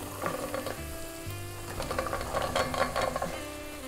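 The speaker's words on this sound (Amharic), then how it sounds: "እንደዚህን ጨምረውና አብረን ጠበስ ጠበስ እናረጋለን" Chickpeas and a white spice blend frying together in a pan, a steady close sizzle with stirring scrapes and light clatter rising over a tonal background hum.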